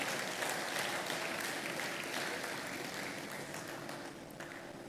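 An audience at a retail congress applauds the session moderator, giving a broad, continuous round of clapping from a large crowd that tapers slightly toward the end, with no voices over it.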